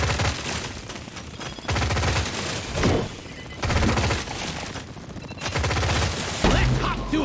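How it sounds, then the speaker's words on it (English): Rapid bursts of gunfire from the LOK-1 Smart Rifle in the video game Deep Rock Galactic: Survivor, loud clustered volleys separated by short pauses, with game effects layered over them. "Make sure your shots hit them."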